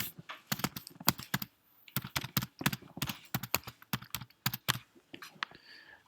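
Rapid typing on a computer keyboard, uneven bursts of crisp key clicks close by with short pauses between runs, no other sounds around.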